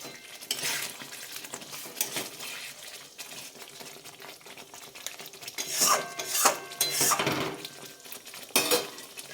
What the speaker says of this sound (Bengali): ফুটে গেছে, এবার মাছটা দিয়ে দিচ্ছি